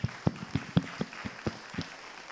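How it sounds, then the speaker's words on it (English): Sparse, scattered hand claps from a small audience at a community health talk, about eight distinct claps in an uneven rhythm, fairly faint and quiet in the room. "I think I also want to give a round of applause to Bharatana, our uncle who arranged all of"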